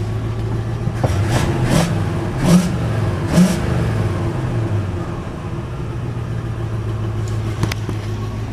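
A car with a worn motor mount runs and revs, its engine hum steady underneath while several sharp throttle blips rise and fall early on, then settling to a near, even drone.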